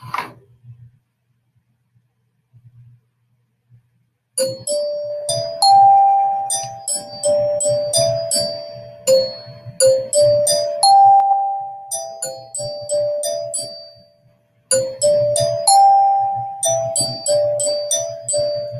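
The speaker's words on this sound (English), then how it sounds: "I'm going to play a little bit of the glockenspiel." Bright metallic glockenspiel notes struck with hard mallets, a short melody of ringing bell tones after a quiet start, with a brief pause before more notes.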